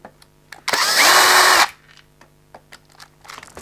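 A power screwdriver backing screws out of an FTX Supercforza RC car whirs loudly for about a second in one close, steady burst, followed by small clicks and handling noises.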